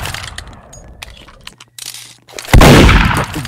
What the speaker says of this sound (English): Now I can shoot wherever I want now, bro.